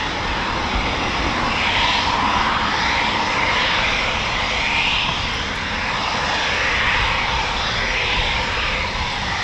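Eurofighter Typhoon FGR4 jet taking off at RAF Coningsby, a steady, loud, broad engine roar that swells and holds through the whole stretch, with no voices over it.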